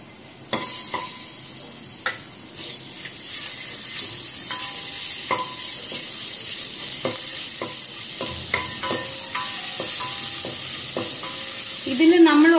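Ginger garlic paste fries in oil and ghee inside a pressure cooker, a soft continuous sizzle punctuated by spoon clinks and stirring scrapes, the sizzle swelling near the end.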